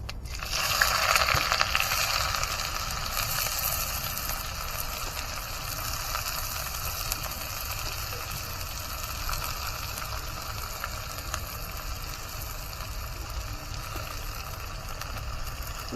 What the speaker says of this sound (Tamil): வெங்காயம், பூண்டு, பச்சை மிளகாய் இது 3த்தையும் போட்டு நல்லா வதக்கிக்கலாம்